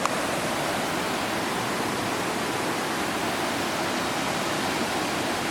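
Creek water rushes continuously where England Creek meets Running Creek, a steady dense broadband roar, close and even in level, with no voices.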